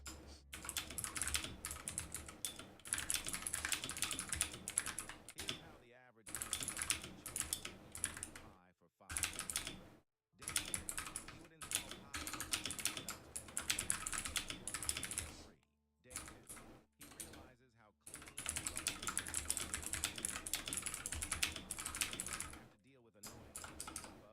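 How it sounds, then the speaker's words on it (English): Rapid typing on a computer keyboard close to the microphone, dense bursts of clicking keystrokes broken by several short pauses across the stretch. "That's really picking up all my typing, huh?"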